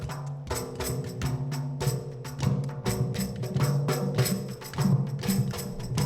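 Water drums made from calabash gourd halves floating in water, played by a student percussion group with a steady repeating pattern of deep, hollow thumps, joined by layered percussion and continuous loud ensemble rhythm.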